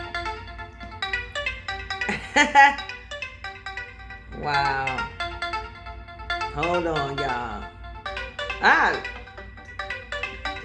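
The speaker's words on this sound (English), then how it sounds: "I thought my phone was off." A mobile phone ringtone plays a repeating electronic melody throughout, fairly loud, while someone speaks over it in short exclamations.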